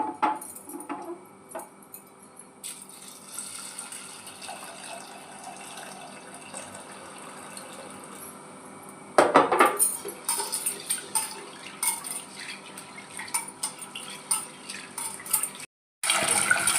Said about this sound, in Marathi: या डाळीला आपण पाण्यामध्ये स्वच्छ 2 ते 3 वेळा धुवून घेऊ